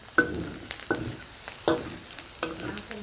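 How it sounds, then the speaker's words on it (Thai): Pork rinds fry and sizzle in a pan of hot fat, giving a soft steady crackle broken by several sharp stirring scrapes and pops at close range. "แคบหมูของเราเริ่มเหลืองแล้วค่ะ ก็เคี่ยวไปอีกสักพักหนึ่งนะคะ"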